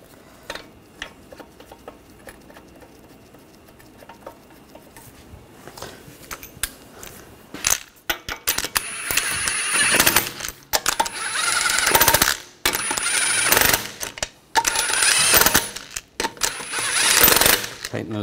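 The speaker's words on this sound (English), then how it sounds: "Tighten those down." Car wheel lug nuts being tightened by hand, heard as a quiet stretch of faint rustling followed by loud, close bursts of ratcheting and metallic clatter in several separate runs.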